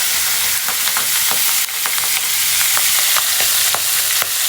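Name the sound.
oil sizzling in pan while cooking broken-rice pulao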